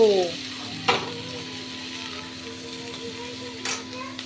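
Onions sizzle in a pan at home. A continuous close frying hiss is broken by two sharp stirring clatters, one near the start and one near the end.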